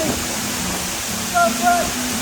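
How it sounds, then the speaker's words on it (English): Octopus waterfall along the Tilicho Lake trek in Nepal gives a steady, broad rushing roar, with a couple of brief faint tones rising above the continuous water noise. "this is octopus waterfall behind me"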